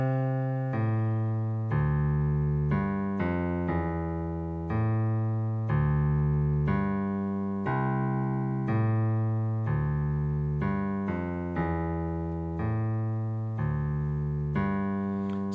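A bass line played alone, a steady run of sustained low notes stepping through changing pitches, each note attacked cleanly and held, moderately loud and close for about fifteen seconds without talk.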